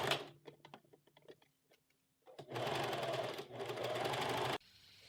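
Sewing machine closing the sleeve seams of a blouse with a 1 cm seam allowance: scattered clicks and short taps first, then two loud sustained bursts of rapid whirring stitching, close by, with no talk.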